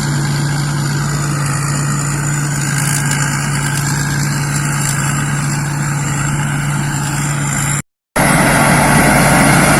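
A rice combine harvester engine running steadily in a paddy field, a loud, constant mechanical drone with a strong low hum, cut by a brief gap near the end before resuming.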